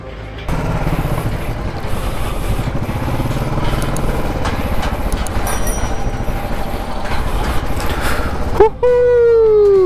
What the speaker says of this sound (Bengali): দেখো এই ব্রিজটাতে বাইক চালাচ্ছি